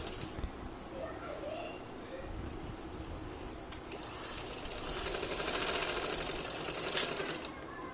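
A sewing machine stitches the folded hem of a salwar trouser with a faint, low mechanical whirr and light rattling, running quietly throughout against a soft background.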